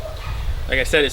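Dogs bark outdoors in a couple of short, sharp yips near the end, heard under someone talking with wind noise in the background.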